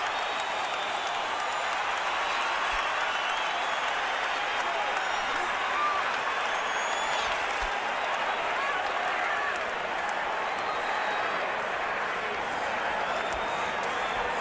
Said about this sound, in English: The crowd's on its feet.